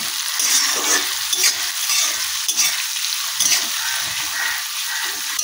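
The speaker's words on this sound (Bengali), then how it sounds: "পেঁয়াজটাকে তেলের মধ্যে ভালো করে একটু ভেজে নেব।" Chopped medium-sized onions fry in oil for a radish-greens stir-fry, a close, steady sizzle with scraping stirring strokes throughout.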